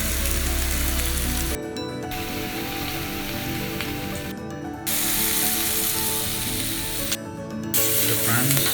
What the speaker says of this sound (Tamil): போத் சைட் நல்லா ஃப்ரை பண்ணிக்கொள்வோம்